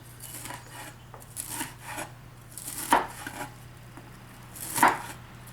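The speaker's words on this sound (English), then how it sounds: "we're going to take these asparagus and start from the tip. And you're going to cut all the way down through these" A knife cuts raw asparagus from the tip down on a board, giving a few quiet, intermittent cuts and two sharper chops against a faint background hum.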